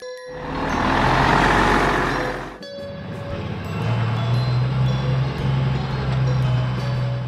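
A large vehicle's engine roars loudly, then cuts off abruptly, and a lower steady engine drone with a rumbling idle takes over.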